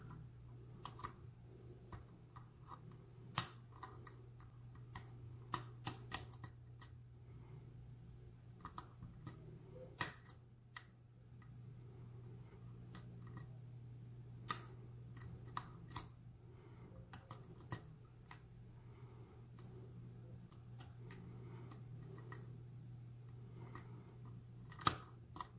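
A lock pick works the pins inside a stubborn lock, giving sparse, sharp little clicks and ticks at irregular intervals over a low steady hum, close and quiet, with no talking.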